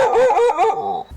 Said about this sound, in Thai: มีหมาที่ไหนก็ไม่รู้เห่าอยู่หน้าบ้านเรา